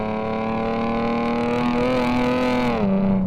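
A heavy 1.8-ton car powers out of a tight hairpin, its engine note climbing steadily in a strong, close, continuous roar before easing slightly near the end.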